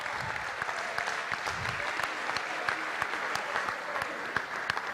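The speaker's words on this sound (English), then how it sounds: "so let's give them a round of applause as well" Audience applause at a high school football banquet, a full room clapping loudly and steadily for several seconds, with crisp individual claps standing out from the dense wash and faint voices underneath.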